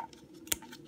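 A single sharp snip as 3D printer filament is cut off, close and brief, in an otherwise quiet room.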